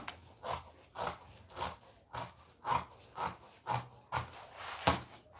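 Scissors cut through fabric to trim off a shoulder slant, making about eleven close, crisp snips in a steady rhythm, each roughly half a second apart.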